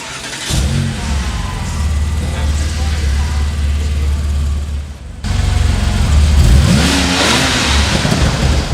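A Lykan Hypersport supercar starts for the first time. Its engine catches and settles into a deep, loud idle, cuts briefly, then fires again with rising and falling revs, close by and dominating the scene.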